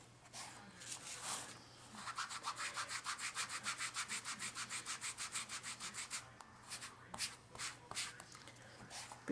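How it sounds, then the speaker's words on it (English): A sponge applicator rubs ink firmly into an embossed tag, giving a close run of quick, even scrubbing strokes in a steady rhythm that loosens into a few slower swipes near the end. "You're going to ink it up, and you're going to rub it in very, very well to the tag."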